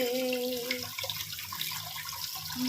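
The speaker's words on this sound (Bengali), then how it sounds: "সয়াবিন আর আলুটা এখানে সেদ্ধ করে নিয়েছি হ্যাঁ এইবার এটাকে জলটা ঝরাবো ভালো করে" Water splashes and pours out as boiled soybeans and potatoes are drained in a kitchen, a close, brief gush that tapers off and then resumes with no talking.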